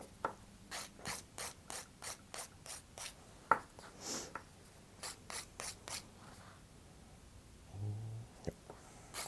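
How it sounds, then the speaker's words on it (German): A hand file rasps across a gel or acrylic fingernail in quick, even back-and-forth strokes close up, pausing briefly midway before resuming, with a short hum near the end. "Viele nehmen die Feile auch so und feilen so entlang."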